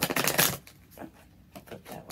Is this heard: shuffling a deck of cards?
yes